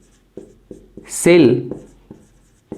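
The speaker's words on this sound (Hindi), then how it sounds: "तो इसका डिफिनीशन लिखते हैं" Chalk or marker taps and scratches on a board as a definition is written, several short sharp strokes spaced through the clip, close by, with a brief spoken word in the middle.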